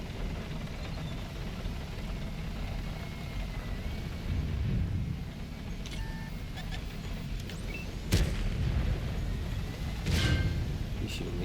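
Tank cannon fire in World of Tanks, HEAT shells fired: sharp, loud booms near 8 and 10 seconds over a steady rumbling engine and battle bed, with smaller impacts between.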